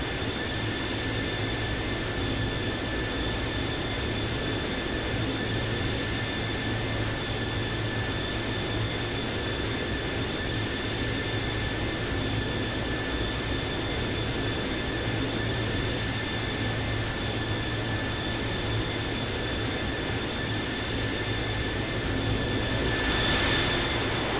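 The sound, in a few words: Boeing 737-800 APU running after landing, flight simulator game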